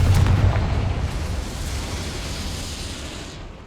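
A Confringo blasting spell in Hogwarts Legacy goes off as one heavy explosive boom at the start, then a rumbling tail that slowly fades over a few seconds, loud and close.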